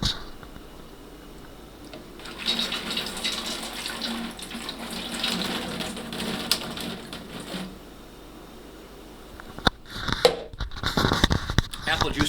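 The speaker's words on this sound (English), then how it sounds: "We're going to be adding juice," Apple juice pours steadily into a 5-gallon glass carboy, a continuous splashing gush for several seconds before clunks and handling noises take over.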